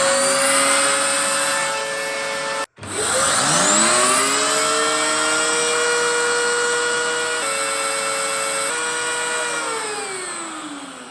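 A Dyson DC07 vacuum cleaner spinning a Vax turbo brush, a steady loud motor whine that cuts out briefly, then the brush rises to a high whirring pitch before the tone slowly winds down, with no talk.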